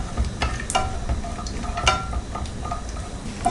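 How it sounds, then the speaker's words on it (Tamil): Cashews fry in oil in a pan for green peas pulao, a soft continuous sizzle with occasional scraping stirs and light clinks, close and fairly quiet, no speech. "முந்திரி நல்லா ஃப்ரை ஆகிடுச்சு"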